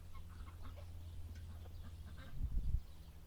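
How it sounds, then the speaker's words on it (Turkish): Honking and cackling fowl call from close by, several birds overlapping against low background rumble, rising to a louder burst near the end. "Kazlar."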